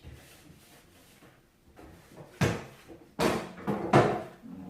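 A kitchen drawer is wiped out and moved while cleaning: soft rubbing at first, then several louder wooden knocks and sliding bumps as it is opened and shut, close by with no voices.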